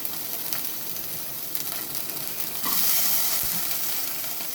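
Turkey berries (sundakkai) sauté in hot oil with a steady, dense sizzle that swells louder partway through, close and continuous with no talking.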